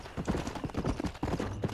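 Horse hooves clip-clop in Red Dead Redemption on Xbox Series S, a steady rhythmic trot of dull close knocks running throughout.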